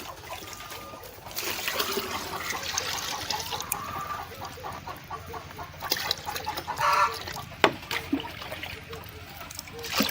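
Water trickles and splashes as it is poured into a poultry drinker tank on a chicken farm, a steady liquid pour with chickens clucking and crowing in the background.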